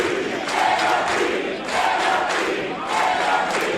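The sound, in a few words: wrestling crowd cheering on their feet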